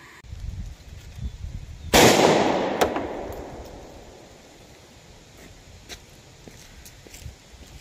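Single sharp gunshot from a 3-inch .357 Magnum revolver firing a 125-grain Golden Saber round into clear ballistics gel outdoors, a loud crack decaying over a couple of seconds amid faint background noise.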